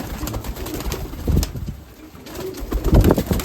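Mykolaiv pigeons coo softly and close by, their low calls coming in short bursts over a bustling dovecote background.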